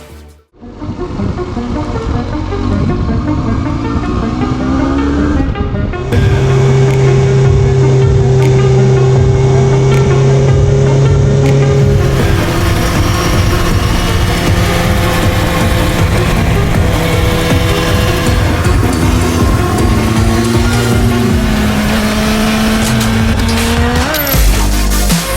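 A 1998 Yamaha R1 motorcycle is ridden, its engine droning loud and close with steady pitch shifts as it climbs and drops through the gears.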